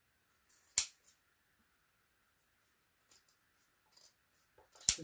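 Scissors snip the end of fabric while a chèche scarf is being sewn: two sharp, quiet cuts several seconds apart, with faint rustling in between.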